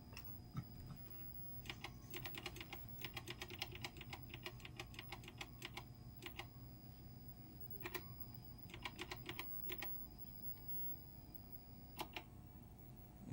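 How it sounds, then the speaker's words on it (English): Rapid clacky keystrokes on a vintage TRS-80 Color Computer keyboard come in bursts with short pauses, fairly close and mechanical, over a low steady hum. "An authentic CoCo keyboard? Sounds like it."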